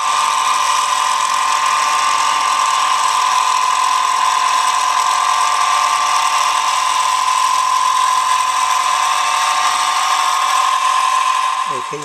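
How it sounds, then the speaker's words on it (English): A milling machine cuts a metal base profile with a 1/8 inch two-flute end mill, giving a loud, steady whine that runs on without a break until a few clicks at the end. "I'm going to try to use one of my 2 flutes, 1/8 inch end mills"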